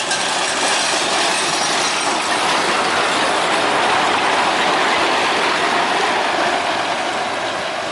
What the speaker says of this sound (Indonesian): lokomotif Hokuriku nomor 4 inspeksi jalur lori ke arah Jombang.